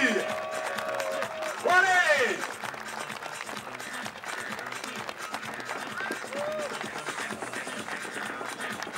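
Audience applause greets archers at the recurve women's bronze medal final of the 2008 World Cup in Lausanne, a steady crowd clapping through the whole stretch beneath an announcer's voice.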